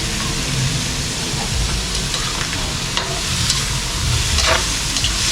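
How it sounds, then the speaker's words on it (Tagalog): Native chicken sautéing in its own rendered fat in a pan, with no added oil, for Bicol-style tinola: a steady close sizzle and frying crackle with stirring scrapes, continuous throughout without talk. "Yan, igigisa muna natin mga idol."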